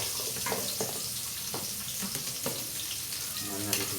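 Garlic sautéing in hot oil in a pan, a soft, continuous sizzle with occasional stirring scrapes and clinks, fairly quiet, with a voice speaking in the background.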